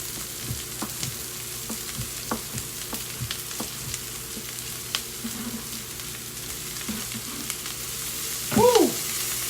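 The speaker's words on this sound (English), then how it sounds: "If you don't hear that sizzle, it ain't right." Chicken sizzles while frying in a pan, a steady soft crackle with scattered pops and clicks, and a brief louder clatter near the end.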